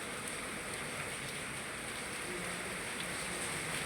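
Heavy rain pours steadily and densely, a constant broadband hiss of drops on surfaces with no breaks and no voices.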